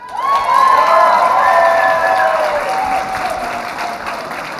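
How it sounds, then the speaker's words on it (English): Loud, sustained applause from a large crowd at a medical residency match ceremony, with a few cheers mixed in, fading slightly toward the end. "Round of applause for Dr. Tomo Ito."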